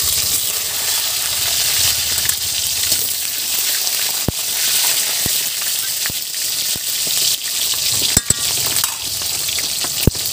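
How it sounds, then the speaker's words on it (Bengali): Chopped tomatoes hit hot oil already tempered with bay leaf and cumin, giving a loud, steady sizzle throughout, punctuated by a few sharp clicks of a utensil. "এখন দিয়ে দেব কেটে রাখা টমেটো"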